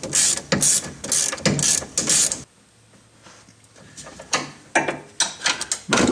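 Ratchet tightening a control arm bolt on a Mitsubishi Eclipse, close and loud: bursts of rapid clicking strokes, a brief pause, then more clicking cranks.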